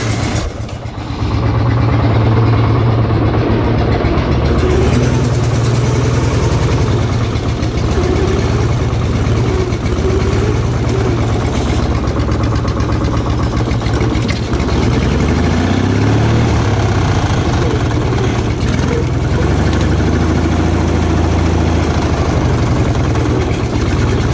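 An offroad tractor engine cranking over and settling into a loud, rumbling idle close by, the deep running drone holding steady throughout with slight rises and dips.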